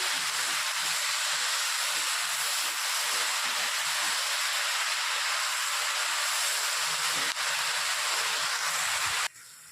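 Drumstick leaves frying in a pan give a steady, loud broadband hiss that runs unbroken for nearly ten seconds before cutting off abruptly at the end.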